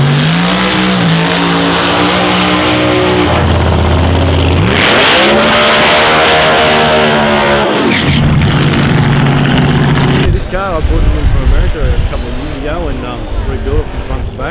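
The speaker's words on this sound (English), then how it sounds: "I run a 34 coupe, supercharged Outlaw" A supercharged 1934 coupe Outlaw drag car roars loudly nearby, its engine revving up and down in long sweeping pulls before settling into a rough, choppy idle.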